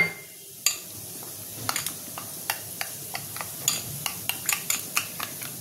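A spoon stirs chironji (charoli) seed paste and garam masala powder loosened with water into a thin slurry in a metal bowl, giving a steady run of light clinking taps and scrapes, close and fairly quiet.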